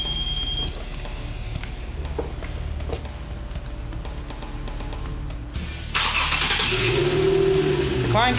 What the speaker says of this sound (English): This also starts the car remotely.